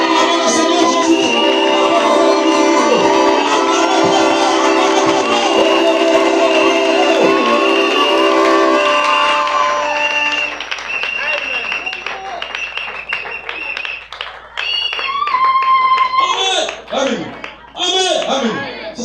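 A church congregation at a tabernacle service sings with sustained voices, then breaks into cheering and rhythmic clapping, with shouted voices rising over the applause.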